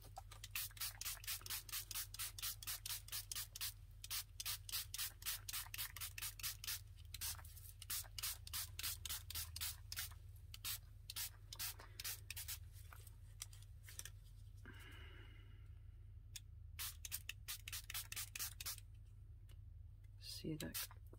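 Hand rubbing on a paper craft project, repeated brisk strokes in quick rhythmic bursts, close and moderately loud, with a brief spritz of spray partway through and no talking.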